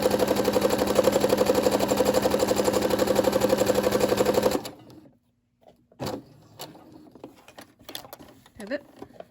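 A Brother SE600 sewing machine stitches a fabric gift bag in a loud, steady run of rapid needle strokes that cuts off partway, followed by quieter handling clicks and a voice speaking.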